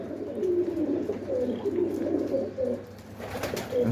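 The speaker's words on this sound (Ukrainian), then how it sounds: "Зараз птиця в небі" Soft dove-like cooing repeats outdoors against a steady background hum, with occasional faint bird calls.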